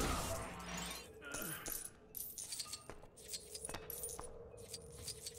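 Coins are collected in the LEGO The Hobbit video game, a bright tinkling run of metallic chimes and clinks in quick succession, followed by a few scattered pickups.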